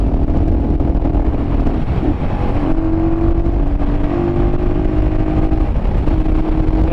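A Honda XL350R motorcycle engine runs steadily close by, a loud continuous drone with small shifts in pitch and a brief dip in the middle.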